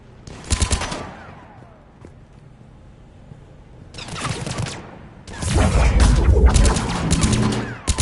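Bursts of automatic gunfire from a Mass Effect 3 firefight: a sharp volley near the start, then a quieter gap, another burst around the middle, and sustained loud shooting with impacts through the final seconds.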